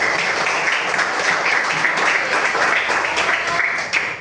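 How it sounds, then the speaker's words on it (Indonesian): A classroom of students claps for a classmate who answered correctly, dense steady applause filling the room throughout before tapering off near the end. "kita beri tepuk tangan dulu untuk teman kita yang bisa jawab"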